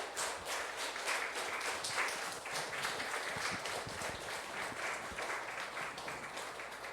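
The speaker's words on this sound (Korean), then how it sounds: "Let's give a big round of applause to true parents for the holy blessing" A crowd applauds steadily at a blessing ceremony in a temple in Yilan, Taiwan, a dense, continuous clapping that holds its level throughout with no pause.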